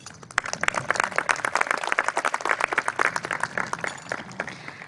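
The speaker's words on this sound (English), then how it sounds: "I'd like all of the class of 2022 to give themselves a big round of applause, including their family and staff" The graduating class of 2022, with family and staff, applauds at a school graduation ceremony, a lively scatter of many hands clapping at moderate distance that swells and stays steady throughout.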